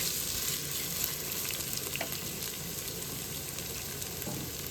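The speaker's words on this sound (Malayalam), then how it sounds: "നല്ലപോലെ ഇങ്ങനെ വഴറ്റി കൊടുക്കാം" Masala sautéing in a pan, a low steady sizzle with occasional soft stirring scrapes, close but fairly quiet, no talking.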